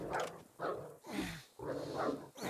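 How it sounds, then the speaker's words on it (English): A dog in the video game DYSMANTLE growls and snarls in four rough, close bursts, each about half a second long, loud and harsh. "God, I hate killing dogs in games."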